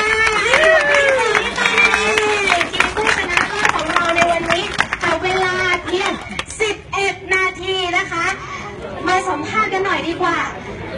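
Crowd clapping and cheering at a Chiang Mai noodle-eating challenge, where 9 kg of noodles were eaten within 10 minutes; dense applause runs throughout under loud chatter and a hubbub of voices.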